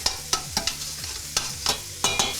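Chopped garlic sizzling with vegetables in a hot pan, a continuous fry punctuated by several sharp, rhythmic stirring scrapes and taps of a utensil.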